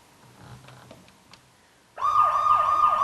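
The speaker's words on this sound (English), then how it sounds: "turn the sirens wide open" A siren sound effect in a live radio play starts abruptly after quiet, faint background sounds and wails loudly in a fast, rising and falling warble that continues to the end.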